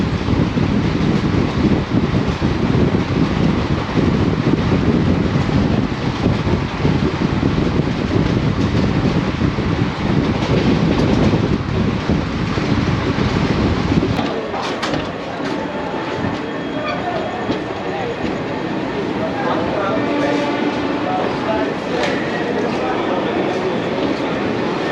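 Inside a carriage of the 22718 Secunderabad–Surat/Rajkot superfast express, a loud, continuous rumble and rattle fill the space, then ease into a quieter, steadier roll partway through, with passengers' voices murmuring underneath.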